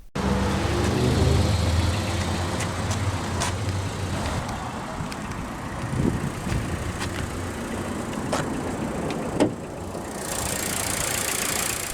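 A 2021 Volkswagen Jetta SE's EA211 1.4-liter turbocharged inline-4 with aluminum block idles with a steady, even hum, close and unaccompanied, with a few faint clicks over it.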